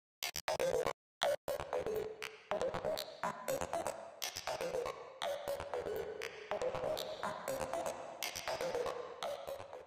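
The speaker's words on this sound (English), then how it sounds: "How about a reverb?" Glitch-style electronic audio processed with reverb in Ableton Live: rapid stuttering, chopped bursts and clicks with short gaps, a washy tail smearing between the cuts, at moderate level with no talking.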